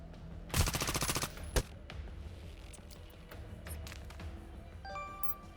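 A turret opens up in the video game Reverse Collapse: Bakery Girl, firing one loud rapid burst of automatic shots and then a single follow-up shot, leaving a quieter background bed.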